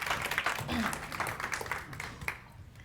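Faint audience applause at a live Social Media Week event, a short, soft patter of clapping lasting under three seconds with some talk underneath.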